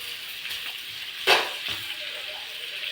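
Pork fat frying in a pan for Filipino adobo, a steady close hiss of sizzling oil with a brief louder crackle burst near the middle and no talking.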